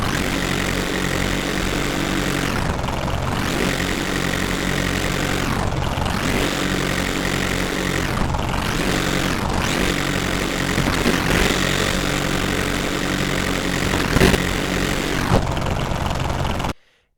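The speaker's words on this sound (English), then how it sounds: "And so now I should be able to drive the truck and hear the engine change." Game truck engine in a Unity project, a steady continuous drone whose pitch rises and falls in several cycles as the vehicle speeds up and slows, loud and alone with no talking.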